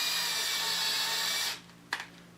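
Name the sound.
drill running backwards boring guitar tuner holes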